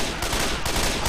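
Shotgun blasts in Left 4 Dead 2 come in three heavy, closely spaced booms within about a second, loud and up close with no talking.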